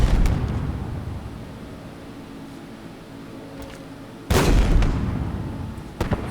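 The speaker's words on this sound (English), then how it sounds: "Kind of jumping up, firing a rocket launcher, and then jumping back down" A rocket launcher firing in Halo Infinite, with a low rumbling buildup followed by one loud, sudden blast near the end and a smaller hit just after.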